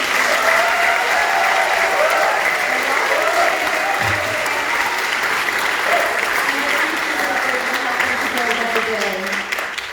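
Sustained, dense applause from an audience at an evening event honoring several organizations fills the whole stretch, steady and loud, with crowd murmur and voices mixed in underneath.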